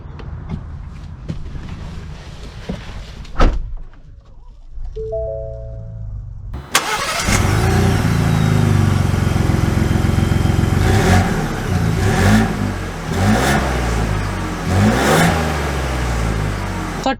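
A 2021 Ford Bronco two-door starts at night, with a brief crank and the engine catching, then idles and pulls away with a steady, rising engine note that swells as it accelerates.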